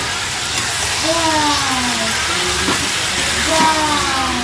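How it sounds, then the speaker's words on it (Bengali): Meat set to cook in a pot on a home stove gives off a steady, fairly loud steam hiss that runs unbroken throughout, with faint tonal sounds and background voices drifting over it. "এই যে মাংসটা বসিয়ে দিলাম"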